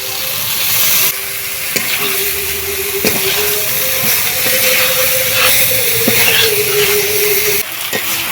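Fried cauliflower is stirred into a cooked-down spice paste in hot oil, a loud continuous sizzle and hiss with repeated scraping stirs close by, no talking.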